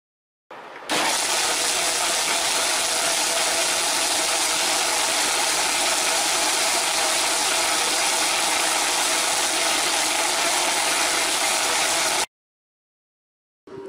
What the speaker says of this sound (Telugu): క్యారెట్లు చిన్న చిన్న ముక్కలుగా కట్ చేసి మిక్సీ వేద్దాం